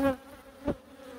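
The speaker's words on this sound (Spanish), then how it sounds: "Ahí salen las abejas." Two short buzzy bursts of honeybees, a loud one at the start and another moments later, with a faint hum lingering between them.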